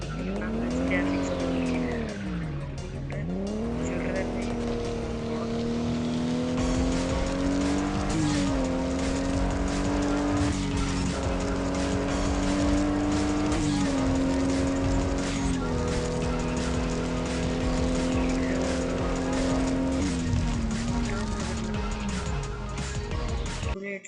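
A BMW is driven in an open-world car simulator game, its engine droning loudly and shifting pitch as it revs and changes gear, with tire squeals along the way.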